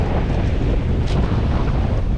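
Strong wind on the banks of the River Humber while sea fishing, a loud continuous buffeting roar across the microphone with no let-up and no speech.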